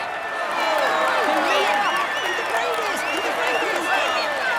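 Steady crowd applause and cheering in the Tour de France 2020 cycling video game on PS4, a continuous dense wash of clapping at a moderate, even level with no pauses.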